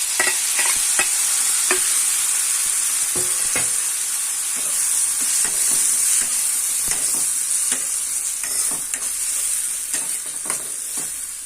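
Tomatoes for an egg curry sizzle steadily in a hot pan, with a spoon scraping and stirring at irregular intervals through the constant frying hiss.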